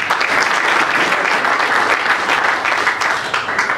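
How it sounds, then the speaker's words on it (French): A crowd of voters at a union election meeting in Kinshasa claps loudly and steadily throughout, a dense sustained round of applause with no voices standing out. "M. Moukoulika Sono Ernest, par acclamation des votants."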